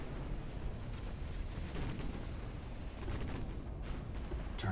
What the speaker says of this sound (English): Massive ammo detonation there.